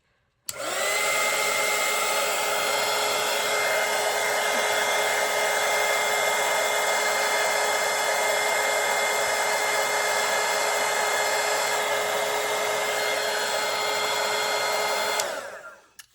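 A hair dryer blows on a watercolour winter landscape painting to dry it, switching on abruptly and running as a steady, loud, whirring hiss for about fifteen seconds before cutting off, with no voices.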